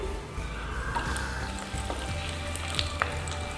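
Curry leaves and two split green chillies fry in hot oil for an egg dish, a continuous close sizzle with scattered sharp pops and crackles throughout.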